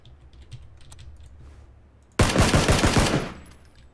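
Gunfire in the video game PlayerUnknown's Battlegrounds, one loud burst of rapid automatic shots that erupts after a quiet stretch of faint clicks, lasts about a second and then fades.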